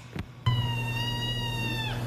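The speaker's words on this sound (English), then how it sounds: "It's a meow that didn't always sound healthy." A rescued cat lets out one long, clear meow close by, after a short faint sound just before it.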